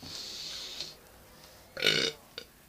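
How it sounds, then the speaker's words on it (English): A single loud burp cuts in close to the mic over quiet background sound during an old-school zombies video game session, followed by a shorter faint noise. "I hope you guys like that burp"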